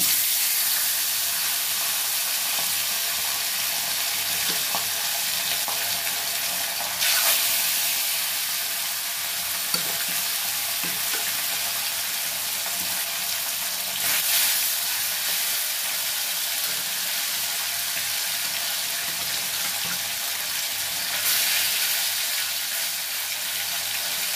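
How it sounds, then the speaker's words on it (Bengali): Katla fish fries in oil in a wok, giving off a constant, even hiss of sizzling that holds steady from start to end with no talk. "এবার মাছটাকে আমরা ভেজে নেব।"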